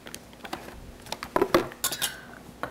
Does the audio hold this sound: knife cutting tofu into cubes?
yes